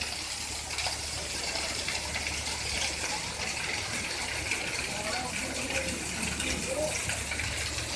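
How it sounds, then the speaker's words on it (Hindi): Continuous broadband rush of heavy rain and flowing water in Lahore, steady and close throughout, with no clear voices. "बारिश बहुत तेज़ है"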